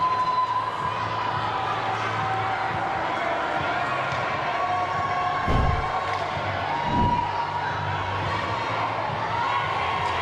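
Spectators roar steadily throughout an international ice hockey game between Mongolia and the Philippines, a sustained noisy arena crowd with a couple of low thuds from the rink and talk mixed in.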